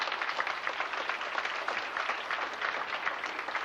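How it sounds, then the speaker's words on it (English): An audience at an FFA banquet applauds, with dense, even clapping held at a moderate level for a few seconds. "Give these gentlemen a round of applause here tonight."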